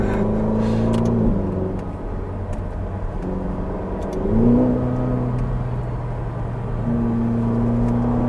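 Close, loud engine of a red Ferrari on the street, revving in repeated surges with pitch rising and falling over a steady low rumble, no voices.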